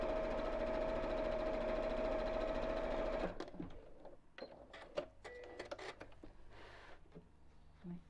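A domestic sewing machine runs a steady, loud seam on a cushion cover for about three seconds, then stops, leaving scattered handling clicks and fabric shuffling.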